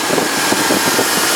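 A 2001 Dodge Dakota 4.7L engine idling after its idle air control valve was cleaned, a close, loud, steady rumbling drone.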